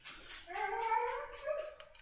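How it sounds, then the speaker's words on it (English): A dog howls in a single drawn-out, wavering cry of about two seconds, rising then sliding down, fairly quiet and alone. "my dog's yelling at me"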